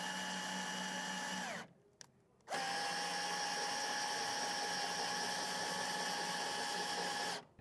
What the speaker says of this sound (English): use the included drill attachment, and raise and lower it by drill